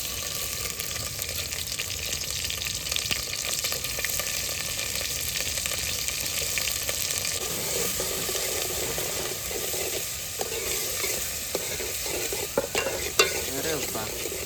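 Onions fry in hot oil for a Gujarati shellfish curry, a loud, dense sizzle with constant stirring and clinks of a spatula against the pan, close and unbroken.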